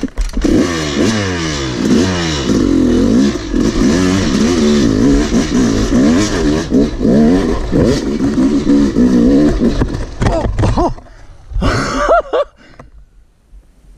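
A Yamaha YZ 250 dirt bike engine revs hard and loud on a hillclimb, rising and falling in repeated surges of throttle before cutting out, with some clatter and a few scattered voice sounds near the end.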